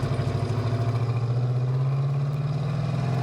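A 1973 Dodge Charger engine idles with a steady, loud low rumble and pulsing rhythm while the car is shifted into first gear, with no talk over it.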